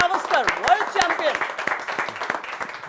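A studio audience claps to welcome cricketer Sunil Gavaskar on a TV cricket show, with a voice and music running over the scattered applause.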